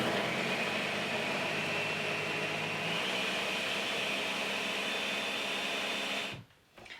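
A blender whirs steadily through hot peppers and garlic in vinegar, a loud continuous motor whine that holds for about six seconds before cutting off abruptly, no voices.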